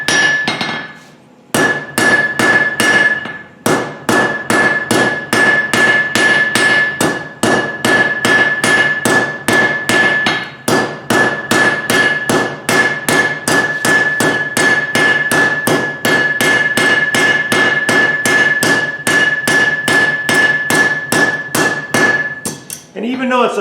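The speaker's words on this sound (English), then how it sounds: "Those are just basically planishing blows, knocking down the corners so I get a mostly roundish shape." A power hammer strikes hot steel at a black heat in rapid, steady planishing blows, dozens of loud ringing hits in a continuous rhythm with two brief pauses near the start.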